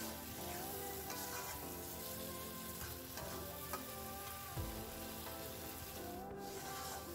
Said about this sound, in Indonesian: sekarang kita masak sampai bumbu sambalnya ini agak kering ya